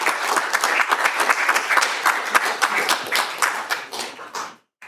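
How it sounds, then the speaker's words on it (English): An audience at a city council meeting applauds with dense, steady clapping for about four and a half seconds, then it stops abruptly. "I applaud you all."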